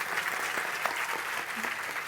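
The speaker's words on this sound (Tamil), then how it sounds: "இவாளுக்கு ஒரு கரகோஷம் கொடுக்க வேண்டாமா?" An audience claps for a Coimbatore group at a Sri Rama Navamai religious gathering in Chennai, a moderate, even patter of applause continuing throughout without pause.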